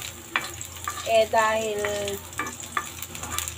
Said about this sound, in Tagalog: Unahin natin tong garlic. Non-stick pan tong lutuan namin.